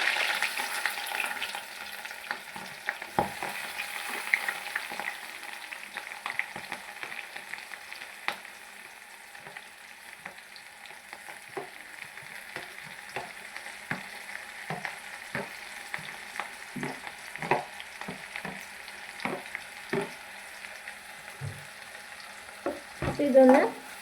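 Chopped onions, garlic, ginger and green chili sauté in a pan for a curry, a soft continuous sizzle punctuated by many quick scraping stirs and taps, close and steady throughout with no one speaking.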